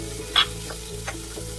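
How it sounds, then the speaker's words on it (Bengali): Water poured into onions and spices frying with coriander powder for a tilapia curry: a brief burst of sizzle, then a softer, steady frying hiss. "দিয়ে সেটাকে ভালো করে ভেজে নিয়ে এর মধ্যে 1 কাপ মতো জল দিয়ে দেওয়া হলো।"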